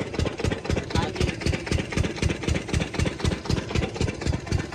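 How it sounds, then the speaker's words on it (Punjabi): Water pump motor running steadily in the fields, a continuous engine-like drone with a regular pulsing throb, close and fairly loud throughout. "ਚੱਲ ਰਹੀ ਹੈ ਮੋਟਰ"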